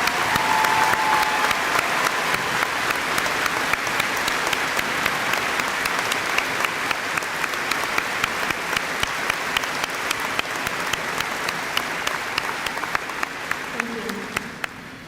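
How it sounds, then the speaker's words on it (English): A large crowd at a graduation ceremony in an arena applauds loudly and steadily, a dense wash of clapping that holds at full strength for the whole stretch before beginning to thin out at the very end. "I'd like to give a round of applause to her for her strength, courage, and determination to keep going."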